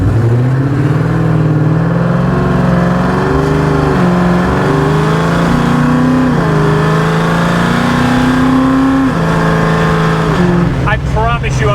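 A 1967 Mustang resto-mod with a supercharged Coyote engine accelerates hard, its loud close roar climbing in pitch through the gears with short dips at the shifts, and voices react near the end.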